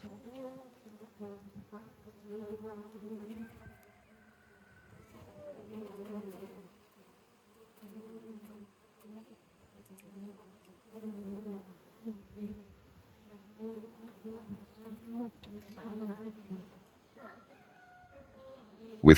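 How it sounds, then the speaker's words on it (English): Bees swarm around a wild hive hanging from a branch outdoors, a close, wavering buzz that rises and fades in repeated bursts with short quiet gaps between. "I spot a wild hive clinging to a branch, buzzing and alive."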